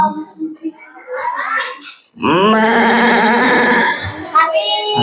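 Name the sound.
goat bleating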